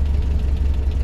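A homemade buggy engine runs steadily, a close, loud low-pitched rumble with a fast throbbing pulse and no pauses.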